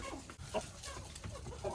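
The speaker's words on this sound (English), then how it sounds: "So check out those happy hens right there." Hens in a homestead chicken flock cluck and chatter around a freshly filled feeder, with a steady, close jumble of soft calls and scratching and no talking over it.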